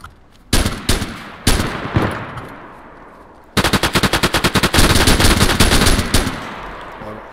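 In a video game, a few separate loud gunshots ring out, then a long burst of rapid automatic fire hammers close and loud.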